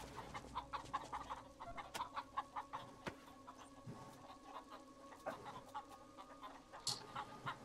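Chickens cluck in short, repeated bursts in the post-apocalyptic game Wasteland 2, quiet and steady with sharper squawks breaking in now and then.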